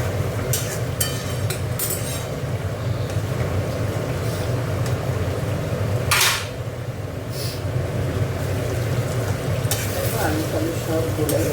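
Potatoes and aubergine frying in oil in a pan for a fish oil-sac curry, a steady sizzle running throughout with occasional scraping stirs of a spatula, close and continuous.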